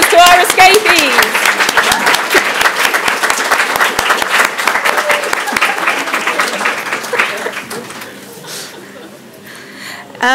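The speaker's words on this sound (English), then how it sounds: "A round of applause to our escapees." A lecture audience breaks into sustained applause, loud and dense at first, with some chuckling and voices mixed in, then thinning out toward the end.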